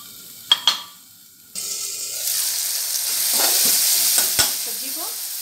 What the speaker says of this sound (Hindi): सब्जी को चम्मच से मैश कर लेंगे इसके टमाटर को